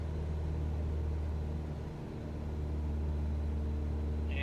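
Single-engine propeller drone of a Tecnam P2010 in Microsoft Flight Simulator, prop pulled back to around 2,300 RPM during a climb, a steady loud cabin hum with strong low harmonics and a brief dip midway, no talking.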